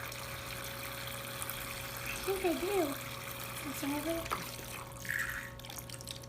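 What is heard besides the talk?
water running in toy kitchen sink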